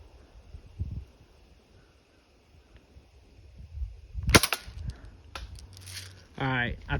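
Gun fired at a microwave, giving a couple of sharp, loud cracks in a quiet outdoor setting, followed by faint clatter and a short burst of speech.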